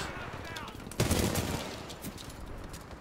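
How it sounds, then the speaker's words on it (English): Automatic gunfire in the video game Titanfall 2, a rapid rattling burst that peaks sharply about a second in and then trails into lighter shots, with a player talking over it. "Just me shooting"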